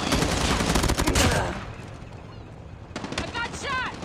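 Heavy automatic gunfire in a hardpoint match of a shooter video game, a loud rattling burst that fades, then returns with more shots under a voice.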